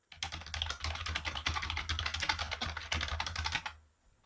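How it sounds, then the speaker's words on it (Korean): Rapid, steady typing on a soft-sounding QSENN SEM-DT25TS low-noise tenkeyless membrane keyboard, close up, with dense muffled key clicks for several seconds before stopping. "타건 소리를 잠깐 들려드릴게요"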